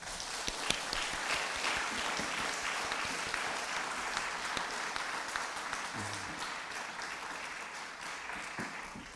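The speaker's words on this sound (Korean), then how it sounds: "우리 다시 한번 박수로" A church congregation applauding after a combined choir's anthem at a mission society's anniversary service, sustained clapping from a large crowd with a few murmuring voices.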